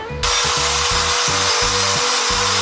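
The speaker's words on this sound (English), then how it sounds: "let's grind these edges on this." Power grinder working the edges of a steel fender brace for a 1948 GMC pickup, starting abruptly and running as a loud close whine broken by rapid stuttering pulses as the tool bites and lifts, with no talking.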